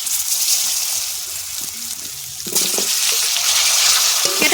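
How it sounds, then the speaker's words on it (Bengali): Potatoes slide into hot oil left from frying singi fish, setting off a loud, steady sizzle that surges and brightens partway through as the pieces settle and bubble. "মাছ ভাজা তেলে দিয়ে দেব আলু।"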